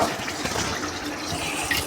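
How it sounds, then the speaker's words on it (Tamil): Rice rinsed under ordinary running tap water, a steady splashing stream with shifting watery texture throughout, close and moderately loud. "நீங்கள் நார்மல் டேப் வாட்டர்லே இப்படி வாஷ் பண்ணிக்கலாம்"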